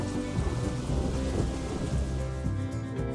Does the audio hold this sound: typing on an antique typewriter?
no